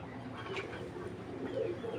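Low cooing from breeder racing pigeons rises now and then at close range, a soft throaty murmur in a quiet room.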